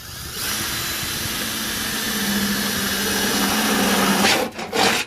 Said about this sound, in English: I'm just going to go ahead and drill a hole in it like this